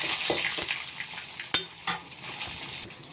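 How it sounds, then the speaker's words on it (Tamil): Cumin, mustard seeds, urad dal and small anchovies fry in hot oil for a gongura dish, with a close steady sizzle and crackle broken by a few sharp metallic clinks of a spoon stirring the pan. "இவங்களும் நல்லா பொரிஞ்சு வரட்டும்."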